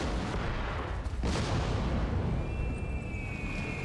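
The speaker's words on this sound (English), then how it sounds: "Now that I hear cannons and whatnot" Heavy cannon fire in a video game's final area, a dense continuous boom and rumble near and loud, with a sharp blast around the middle and a thin whistling tone late on, no talk.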